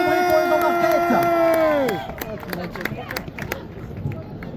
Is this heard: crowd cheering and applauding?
yes